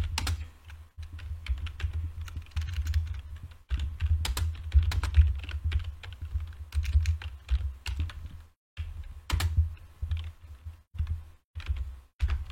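Fingers type on a computer keyboard close by, tapping in quick irregular bursts broken by short pauses, and the soft key clicks carry clearly in a quiet room.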